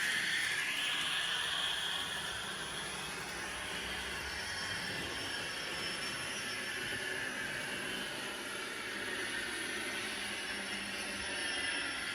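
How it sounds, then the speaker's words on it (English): Model trains run on a small branchline layout, giving a faint, steady rolling rumble with light wheel squeal throughout and no voices. "Okay, let's get some trains running."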